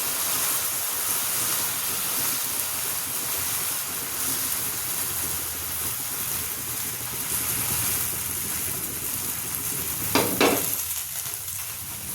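Sabudana and samo dosa sizzle steadily on a hot pan, a continuous even frying hiss with a brief louder burst of crackle near the end, no voices.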